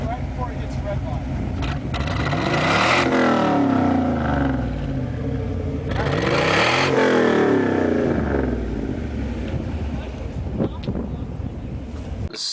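A 2003 Ford Mustang Mach 1 engine revs hard toward the red line twice, each loud rising sweep held then dropping back to a rough idle, recorded close with wind buffeting.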